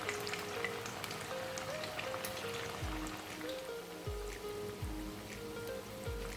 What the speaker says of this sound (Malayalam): ഇനി ഓരോന്നും ഇട്ട് നമുക്ക് വറുത്തെടുക്കാം